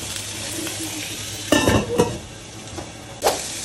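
Food frying in a covered pan in a home kitchen, a steady low sizzle with a couple of louder clattering bursts from the lid or utensils, close by with no talking.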